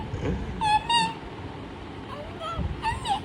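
A small child imitates a cat, giving several thin, high mewing cries in short bursts over faint background murmur in a quiet home.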